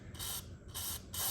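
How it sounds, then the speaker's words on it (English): Three short hissing bursts of white lithium grease sprayed from an aerosol can onto the swivel bushing of a Cub Cadet XT1 lawn tractor, close up, with no talking. "You're gonna spray your white lithium grease into that point"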